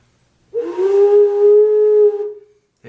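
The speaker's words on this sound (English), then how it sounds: "it makes sound a little bit like a very sad sounding whistle" An organ flue pipe blown by mouth gives a single steady, mournful whistle-like tone with a clear pitch and harmonics, held for about two seconds, loud and close with no talk over it.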